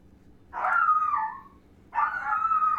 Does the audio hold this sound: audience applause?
no